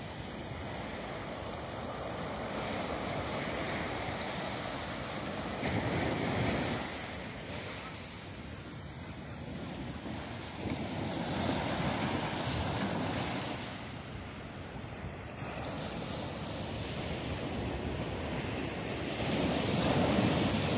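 Waves and wind at Playa Casino beach near the Marga Marga river mouth in Viña del Mar, Chile: continuous surf roar with swelling breakers and heavy gusts buffeting the microphone, loud and sustained without talk.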